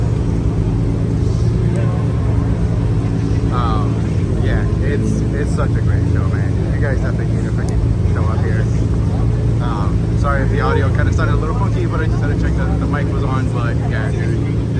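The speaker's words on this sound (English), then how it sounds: "He's just been revving the shit out of the freaking motor, dude." A V12 car engine revs hard at the Miami Concours car show, a loud, continuous roar that runs the whole time beneath someone talking nearby.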